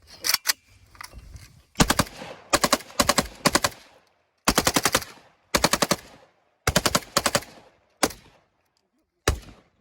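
Bursts of rapid automatic gunfire from an overheating gun, short rattling volleys separated by pauses, ending with a couple of single shots; loud and close.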